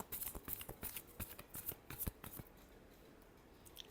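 Tarot cards being shuffled close by, with a quick run of crisp riffling flicks over about two and a half seconds that then fades into quiet handling.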